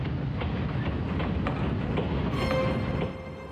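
A train rolls along with a continuous rumble and a faint clickety-clack rhythm, steady and moderately loud throughout, from old archival footage of the First World War period.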